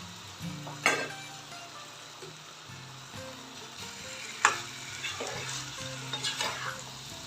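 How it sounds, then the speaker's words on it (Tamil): A spoon scrapes and clinks against a pan while stirring a potato and cauliflower fry, with a soft sizzle underneath, irregular strokes and a couple of sharper knocks, close and fairly quiet, with no talk. "நல்லா கலந்து விட்டுருங்க"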